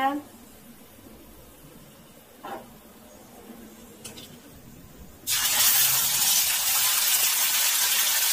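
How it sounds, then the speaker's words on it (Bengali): Whole spices hit hot oil for an egg korma tempering, bursting into a loud, steady broadband sizzle that starts abruptly partway through and holds strong, after a quiet stretch with faint kitchen clatter. "আর এখানে সব মশলা, তো এই যে ফোড়ন দিয়ে দিলাম"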